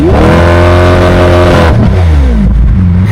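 Loud, close engine roar of a Lamborghini Aventador LP-700 accelerating, pitch climbing steadily before dropping with a shift and climbing again.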